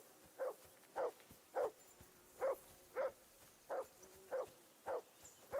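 A dog barks repeatedly in Kingdom Come: Deliverance II, about ten evenly spaced, mid-distance woofs in a steady rhythm over a quiet background.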